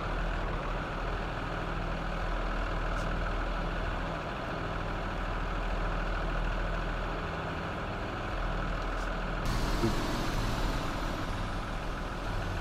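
An old bus engine idles in the Rigs of Rods driving simulator, a steady, fairly quiet low rumble that continues without a break, with a slight lift in level near the end.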